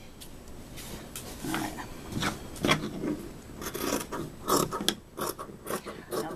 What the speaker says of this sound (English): So what I need to do now is cut her out. Use some better scissors.